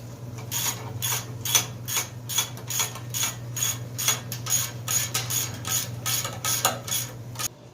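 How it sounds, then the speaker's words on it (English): Ratchet tightening the bolts on a Ford Focus exhaust flex pipe, rapid rhythmic clicking in quick bursts, close up over a low steady hum. "let's go ahead and snug everything up."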